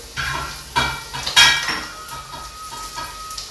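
Garlic sizzling in butter in a pan that is shaken over a low flame, with close metallic scrapes and clanks from the pan over a soft bed of sizzle.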